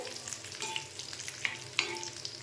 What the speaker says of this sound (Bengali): এই যে বাদামগুলো চপ করে রেখেছি, এইগুলো আমি একটু হালকা একটু ভেজে নেবো